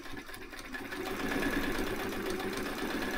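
A White 173 sewing machine, an older thrift-store model, stitching: a continuous mechanical whir and rapid needle chatter that picks up speed and loudness after the first second, then runs steadily.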